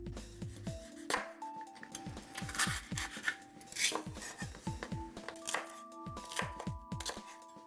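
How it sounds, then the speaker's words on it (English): A knife on a cutting board makes quick repeated chopping taps while slicing green onions with yellow and red chili peppers in a Korean kitchen, close and rhythmic, with a voice faintly present under the cutting. "Next, slice up some green onions, yellow and red chili pepper."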